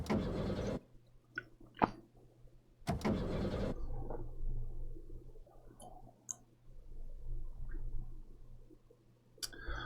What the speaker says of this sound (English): the engine made an odd creaking sound like metal on metal and fell silent